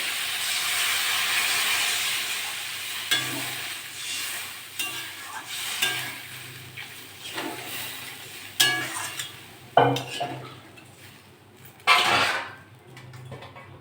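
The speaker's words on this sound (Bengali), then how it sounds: "আমি এবার জল দিয়ে দেবো" Water poured into a pot of spiced potatoes and pangas fish, hitting hot oil with a loud hiss and sizzle, then bursts of stirring and bubbling that swell and fade several times.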